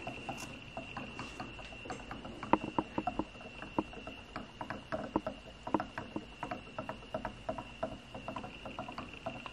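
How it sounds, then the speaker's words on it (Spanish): Sublimation ink draining on its own from a bottle into a printer's ink tank, giving a steady run of small patters and drips, close and quiet, under a faint constant high whine with no talking. "Ahí se escucha. La tinta solita está cayendo."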